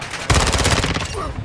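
Rapid automatic fire from an ISO submachine gun in Modern Warfare II, a loud, close burst of about a dozen evenly spaced shots in just over a second, with a voice faintly underneath.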